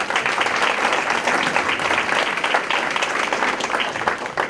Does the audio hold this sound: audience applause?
yes